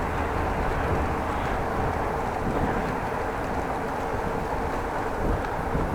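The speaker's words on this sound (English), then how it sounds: "There was a train over a bridge," A train passes over a bridge overhead, heard from underneath as a loud, continuous, broadband roar that holds steady throughout.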